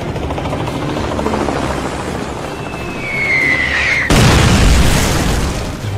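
A military helicopter flies in a war film scene set around the battle for Palmyra, its loud rotor drone building as a whining jet tone rises, then a sharp boom cuts in and the roar continues.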